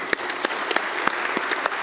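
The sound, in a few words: congregation applauding in church service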